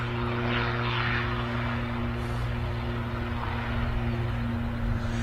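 A Logan Air ATR turboprop airliner taxis onto the runway at Manchester Airport, its steady propeller drone and engine hum holding constant and fairly close throughout.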